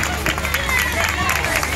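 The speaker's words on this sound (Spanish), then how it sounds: "escuchen la ovación" Crowd at a school's 125th anniversary celebration cheering and clapping, a steady mixed roar of voices and applause with speech babble underneath.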